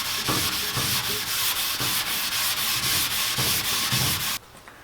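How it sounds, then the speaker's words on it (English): A medium scuff pad scrubs thick soot off a Laguna F2 table saw, a steady rough rasping with rhythmic back-and-forth strokes about twice a second, loud and close, stopping abruptly near the end with no talking. "my plan is to use these scuff pads, starting with a medium, and working my way to more of a fine."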